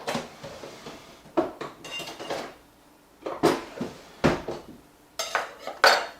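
A warm non-stick frying pan is handled while extra virgin olive oil goes in: a few irregular clanks and knocks of cookware and utensils, fairly close, with quiet gaps between and no talking.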